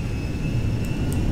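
A Boeing 747 jet beginning its takeoff in Grand Theft Auto V, a steady low engine rumble with a thin high whine held evenly, loud and close with no talk.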